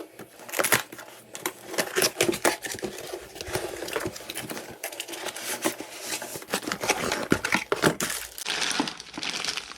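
Plastic wrap and packaging on a sealed laptop case being cut and torn open, a close, busy stretch of crinkling, crackling and scraping that continues steadily with no speech.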